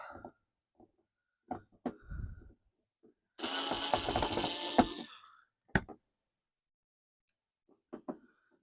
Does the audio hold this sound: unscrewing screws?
yes